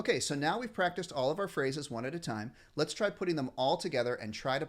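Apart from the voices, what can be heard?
No everyday noises stand out.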